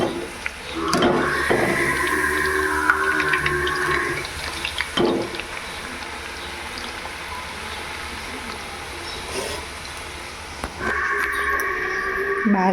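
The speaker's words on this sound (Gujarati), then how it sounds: "આ નાની પાડી છે ને બહુ અવાજ કરે જો દેકારો કરે છે" A young female buffalo calf calls loudly on a farm, with two long drawn-out bellows at the start and another near the end, quieter rustling and background noise between.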